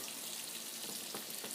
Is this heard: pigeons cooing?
no